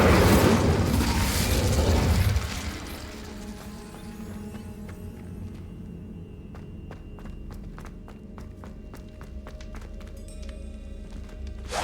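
A loud whooshing burst of flame from the Incendio fire spell cast in Hogwarts Legacy, roaring for about two seconds before dropping to a low crackling rumble with scattered sharp ticks and game ambience.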